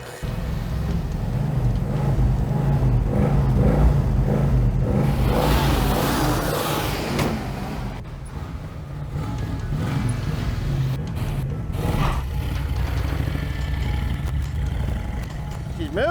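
A 1965 Ford Mustang Coupe engine runs and revs as the car rolls and drives, loud and close, with the revving rising and falling under intermittent talk from people nearby.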